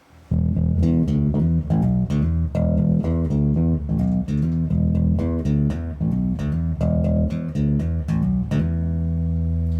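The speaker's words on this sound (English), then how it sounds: "when you put them all together, it sounds like this." A plucked bass guitar funk riff with punchy, syncopated notes and slides in a steady groove, played alone and fairly loud, ending on a held low note.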